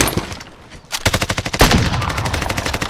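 Gunfire from the Call of Duty Warzone video game: a rapid automatic burst of close, loud shots in a steady rhythm, preceded by a few quieter scattered shots.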